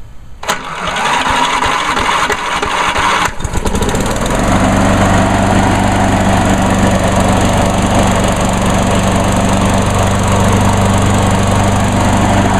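A lawn mower engine is pulled to life: a couple of rattling cranks, then it catches and settles into a loud, steady, close-up roar that runs unbroken to the end.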